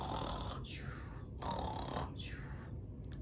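Slow, rasping snores repeat three times, each a long noisy breath with a rough drawn-out texture, close and steady.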